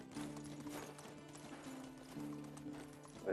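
Horse hooves clip-clop in a steady rhythmic gait as the horse is ridden in the medieval life-sim game Medieval Dynasty, with a low droning tone underneath and moderate loudness throughout.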